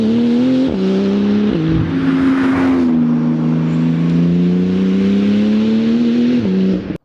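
A voice imitates the engine of a Porsche 911 GT2 RS turbocharged supercar, a loud, close droning rev that climbs through several gear-change steps and a whooshing turbo whistle, held almost without pause before cutting off.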